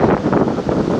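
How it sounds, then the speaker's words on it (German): Strong, gusty wind buffets the microphone on an exposed sandstone outcrop in the Elbe Sandstone Mountains of Saxon Switzerland, a continuous loud roar that swells and eases with the gusts, with no voices. "musste man schon ganz schön standfest bleiben bei dem Wind. Das sind ganz schöne Böen teilweise."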